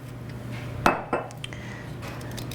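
A spoon scraping the skin off a piece of fresh ginger in a kitchen, with two or three short scraping and clinking strokes close by over a steady low background hum.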